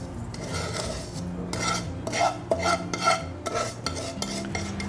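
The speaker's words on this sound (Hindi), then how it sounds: "अब इसमें हम सूजी वाला मिश्रण मिलाएंगे" A spoon scrapes and clinks against a bowl while stirring a cooled semolina mixture into ground oats for oats idli batter, giving repeated close scraping strokes with a few sharper knocks and no voices.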